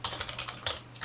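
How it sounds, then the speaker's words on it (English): Rapid clicking of keys on a computer keyboard as a web address is typed, a close, steady patter of keystrokes with no talking. "I'm going to start by typing"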